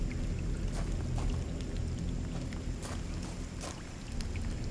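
Water flowing and splashing in Scanner Sombre, a constant rushing wash broken by a few brighter drips and splashes, moderately loud and close, with no voices.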